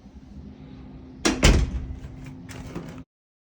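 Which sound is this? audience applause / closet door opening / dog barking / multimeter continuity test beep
closet door opening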